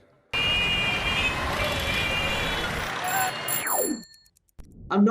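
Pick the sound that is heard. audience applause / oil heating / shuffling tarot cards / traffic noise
traffic noise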